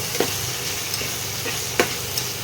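Poppy seed paste being sautéed with kohlrabi in a pan, with a soft steady sizzle and a few sharp scraping stir strokes of a spoon against the pan.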